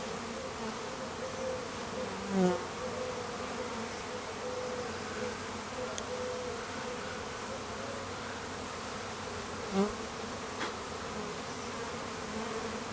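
Honeybees from a package install buzzing steadily and close, a dense continuous drone with a couple of louder individual bees passing by, no talk.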